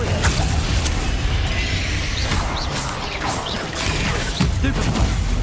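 Spell-casting effects in the video game Hogwarts Legacy, a dense, loud wash of magical whooshes, crackles and impact crashes layered continuously with scattered sharper hits over the whole stretch.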